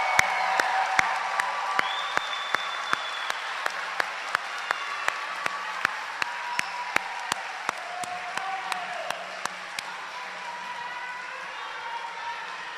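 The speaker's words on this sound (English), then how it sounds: "One more round of applause." A commencement ceremony crowd applauds with sustained clapping that holds steady and gradually thins toward the end, while faint voices and a scattered cheer or two rise over it.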